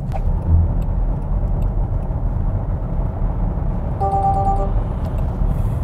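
A Range Rover Velar plug-in hybrid accelerates and overtakes at highway speed on electric power alone, a steady cabin drone of road and tyre noise with no engine rumble, and a brief faint tonal chime partway through.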